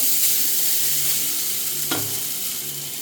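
Drained rice being stirred into chicken gravy in a cooking pot, with a soft steady sizzle and low simmering bubbling throughout and one sharp utensil scrape partway through.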